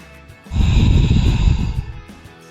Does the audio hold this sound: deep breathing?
yes